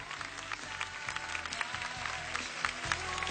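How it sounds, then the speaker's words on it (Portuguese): A studio audience claps steadily on a Brazilian talk show, the dense applause holding at an even level throughout with a faint crowd murmur beneath it. "Esses aplausos pra você, Marco."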